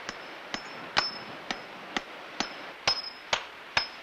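A hammer drives a nail on a New Zealand family farm: nine sharp, evenly spaced metallic taps over a few seconds, some ringing briefly, close and alone against quiet background.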